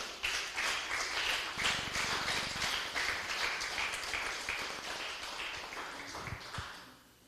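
A church congregation claps together in a dense, rhythmic burst that carries on steadily and slowly fades near the end, with a few stray taps and faint voices underneath.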